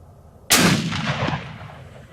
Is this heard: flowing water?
no